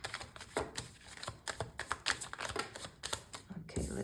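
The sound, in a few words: shuffling tarot cards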